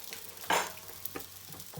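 Cheese paratha cooking on a pan, a soft sizzle under a sharp scrape or press near the middle, with a few lighter taps after, close and fairly quiet.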